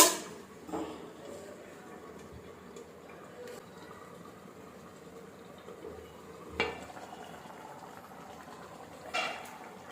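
Eggplant and black-eyed pea curry bubbles gently in a pot, a soft continuous simmer with a few sharp clinks of a utensil against metal.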